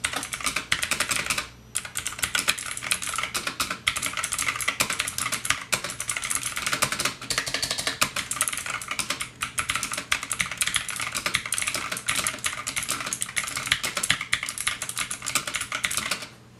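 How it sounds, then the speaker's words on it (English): Fast, continuous typing on a Rosewill NEON K81 mechanical keyboard with clicky Kailh Blue switches, a dense, close stream of sharp key clicks heard alone. "to see what this kale blue switch sounds like in a typing example"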